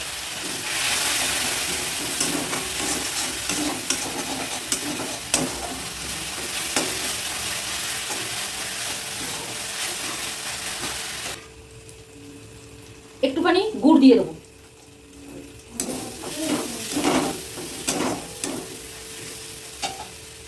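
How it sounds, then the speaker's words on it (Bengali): Spice paste stir-fried in a pan with a little water, a sizzle with scraping stirs that drops out midway, followed by a brief voice and then renewed stirring and frying. "এইবার মশলা ভালো করে কষিয়ে নেবো"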